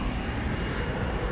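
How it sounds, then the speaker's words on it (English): An American Airlines Airbus A321 departing Dallas Fort Worth for Seattle gives a brief, fairly quiet jet engine rumble, steady and low, heard alone. "American 2003 to Seattle, and Airbus A321 is right there,"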